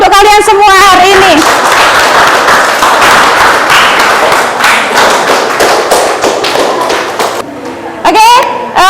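Students in a classroom applaud in a loud, dense burst of clapping mixed with excited voices, and a spoken voice is heard just before and after.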